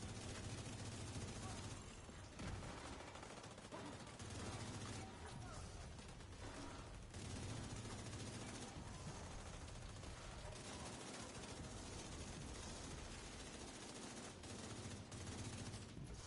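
Sustained rapid gunfire in a chaotic video game battle, with rattling automatic bursts running steadily and loudly throughout, dense and continuous with brief dips in intensity.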